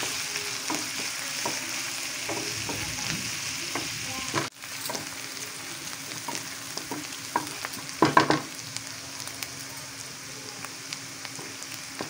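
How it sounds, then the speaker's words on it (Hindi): Green chilli and chopped ginger fry in hot oil for sago upma, giving a steady close sizzle with light stirring scrapes and a few sharper spattering pops. "डालेंगे ग्रीन चिल्ली, चॉप जिंजर, सभी को अच्छी तरह से गोल्डन फ्राई कर लेंगे"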